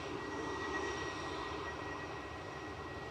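An airliner climbing out of Manchester Airport bound for Dubai, heard as a distant, steady jet roar that stays level and unbroken throughout.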